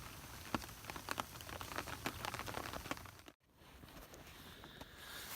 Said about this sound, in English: It's not raining particularly heavily